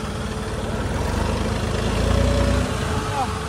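Massey Ferguson 9500 Smart 4WD tractor engine idling nearby, a steady low rumble that swells slightly midway, while someone talks over it.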